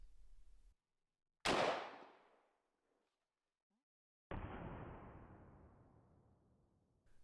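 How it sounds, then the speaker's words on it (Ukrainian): Two loud, sharp rifle shots from a Starship Troopers replica rifle fired into the side of an armored vehicle, each a sudden crack followed by a long decaying echo across open ranch ground, separated by silence. "Окей, стріляємо в бочину броніка прямо над сердитим чоловічком"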